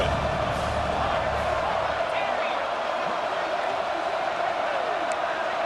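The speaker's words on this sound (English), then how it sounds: "3rd down, and the crowd really getting into it." Stadium crowd roar on third down in College Football 26, a dense, steady wall of cheering and whooping that holds loud and constant throughout without a break.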